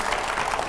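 A studio audience breaks into a short burst of applause to welcome a guest on a televised panel discussion. The clapping is steady, moderately distant and fills the whole brief moment.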